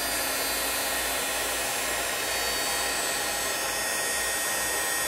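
An embossing heat tool blows a loud, steady whirring roar at close range while heating wet embossing glitter, unbroken for the whole stretch with no voices.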